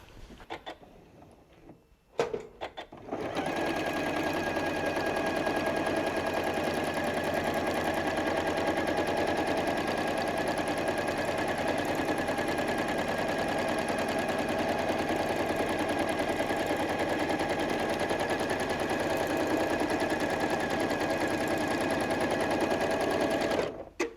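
A home sewing machine does free-motion quilting on a small practice wall quilt. It stitches in a rapid, continuous mechanical chatter for about twenty seconds after a short start, close and loud, with no talking.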